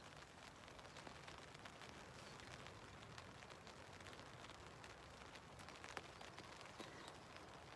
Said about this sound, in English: I'll let you listen to the rain for a second.